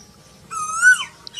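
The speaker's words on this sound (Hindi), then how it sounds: "ये है कोयल। कोयल को इंग्लिश में बोलते हैं कुक्कू।" A close Asian koel, a cuckoo, gives a single clear rising-and-falling call over a quiet background, with a brief faint note following.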